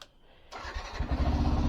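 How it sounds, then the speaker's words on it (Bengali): A motorcycle is cold started early in the morning: a brief quiet moment, then the engine catches and settles into a rough, throbbing idle that grows louder and steadier, heard close up with no talk. "বাইকটা আমি একটু কোল্ড স্টার্ট করবো"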